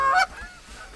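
Geese honk in flight during an early-season goose hunt: one loud, close honking call at the start, then quieter background.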